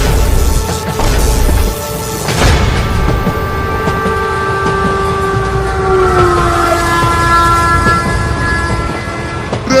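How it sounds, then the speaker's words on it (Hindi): A train rolls past close by, its continuous rumble and wheel clatter joined by long sustained horn tones throughout. "ट्रेन तो चली गई मालिक"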